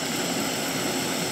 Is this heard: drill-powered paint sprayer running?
no